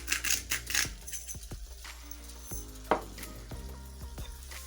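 Veggie fajita vegetables sizzle steadily in a hot pan while being stirred, with several sharp scrapes and clinks of the utensil against the pan cutting through the close frying noise.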